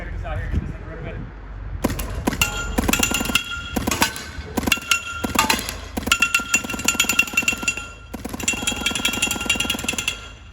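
Rapid bursts of shots from a Planet Eclipse EGO LV1.6 paintball marker, loud and close, firing in several quick strings with short pauses between them.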